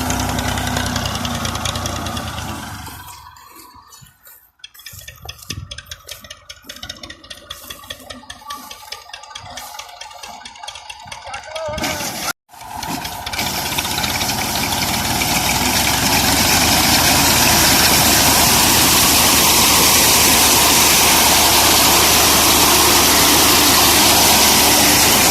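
A 1986 Massey Ferguson 240 tractor runs a reaper cutting wheat, its steady engine drone broken by a dip and brief dropout before settling into a loud, continuous close-up roar.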